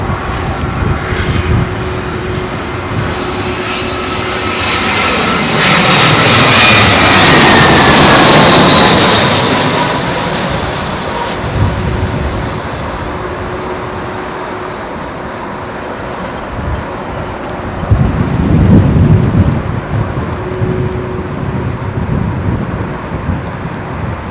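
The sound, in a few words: aircraft landing in crosswind at London Heathrow runway 27L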